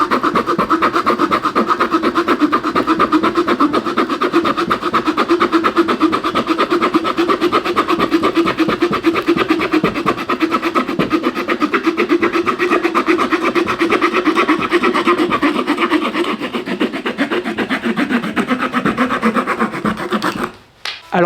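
A Leatherman Arc multitool saw cuts a small piece of dry wood about 3 cm square, with rapid rhythmic rasping strokes held close and loud for about twenty seconds before stopping.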